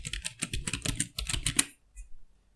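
A router password is typed on a computer keyboard as a quick, close run of light key clicks, followed by a brief pause and one last tap.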